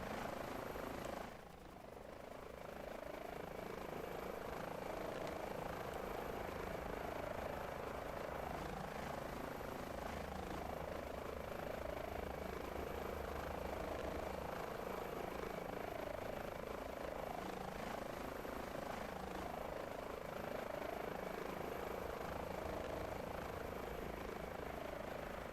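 H145 helicopter in military livery in Microsoft Flight Simulator 2024, a steady loud rotor and turbine drone with a constant high whine, continuous and unbroken throughout.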